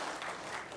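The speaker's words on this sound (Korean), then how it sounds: "박수 치려면 빨리 치세요." An audience at a health lecture gives a short burst of applause, close and brief.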